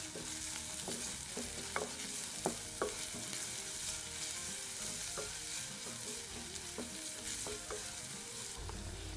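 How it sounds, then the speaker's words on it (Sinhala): Pandan and curry leaves temper in hot oil for a fried chicken curry, a steady close sizzle broken by repeated sharp spoon scrapes and clinks against the pan, with no talking. "ඊළඟට මේකට රම්පෙ සහ කරපිංච ටිකකුත් එකතු කරලා ඒ ටිකත් ටිකක් තෙම්පරාදු කරගන්න."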